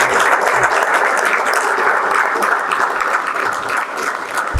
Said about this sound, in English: Can we all have a standing ovation for our chief guest, Honorable Chief Guest, Mr. Ramanan Ramanath